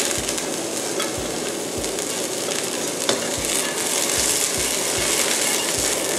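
Bean sprouts stir-fried in a hot pan give a loud, steady sizzle with regular scraping strokes of a spatula roughly every half second, close and continuous throughout.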